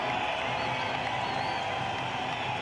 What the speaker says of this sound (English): And the crowd supporting Tendulkar with a fine shot there.